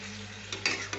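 Spices and a splash of water sizzle softly in a pan for aloo potol curry, a faint steady frying hiss broken by a few quick stirring scrapes near the end.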